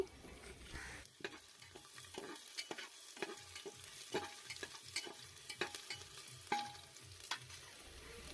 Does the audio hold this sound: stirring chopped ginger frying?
yes